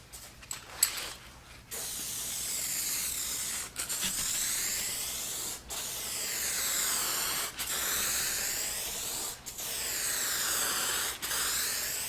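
A second, heavier coat of spray paint going on in a series of steady hissing aerosol passes, each lasting about two seconds with brief pauses between, close and fairly loud, with no talking.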